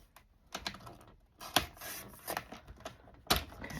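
Paper being cut and trimmed for ephemera crafts, heard as a string of close, dry scraping and clicking strokes in uneven bursts, with two sharper snaps and no talking.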